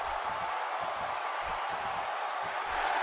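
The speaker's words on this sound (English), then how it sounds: "And listen to this crowd." A dense wrestling arena crowd in WWE 2K17 roars continuously during a Seth Rollins versus Dean Ambrose match, a loud, even wash of cheering with low rumbling thuds underneath.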